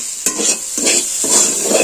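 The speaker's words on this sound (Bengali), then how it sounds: "এটা আমি খুব বেশি ভাজবো না আমার ভাজা হয়েই এসছে" Sago pearls frying in a pan, a close, constant sizzle broken by three or four rhythmic scraping stirs of a spoon against the metal.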